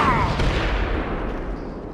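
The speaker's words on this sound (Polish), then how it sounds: "To niezły wybuch." A large explosion in the video game Oddworld Stranger's Wrath, a loud rumbling boom that starts at full force and slowly decays through a long, deep tail.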